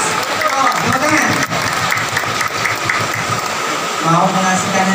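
Parents and guests at a Qur'an recitation exam and completion ceremony at an Islamic boarding school clap loudly and close by, a dense burst of applause that holds for several seconds with voices mingled in.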